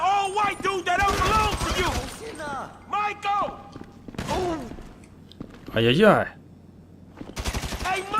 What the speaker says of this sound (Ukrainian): Дробовичком стріляє.